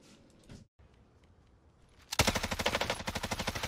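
Gunfire in the video game Warzone: a brief muffled shot and quiet game ambience, then a loud, rapid automatic burst of about a dozen evenly spaced shots close by.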